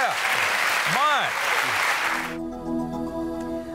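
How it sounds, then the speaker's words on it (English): Studio audience at a TV interview show breaks into loud, sustained applause filling the room, with a brief tonal swoop early on, then the clapping cuts off and quiet music continues underneath. "I think that deserves a hand clap everywhere"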